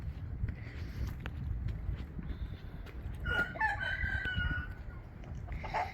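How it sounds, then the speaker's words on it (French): Free-range hens cluck softly on an organic farm near Rambouillet, then a rooster crows clearly for a couple of seconds, moderately close over low rumbling outdoor noise and faint footsteps. "Voilà les poules en liberté."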